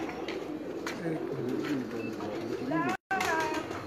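Teddy pigeons in a loft coo in low rolling calls beneath someone speaking, with a brief dropout near the end.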